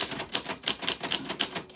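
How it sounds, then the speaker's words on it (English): A name typed on a vintage typewriter: a quick, uneven run of about eight crisp mechanical keystrikes, close and clear, with no voices. "that's how your name sounds on a vintage typewriter"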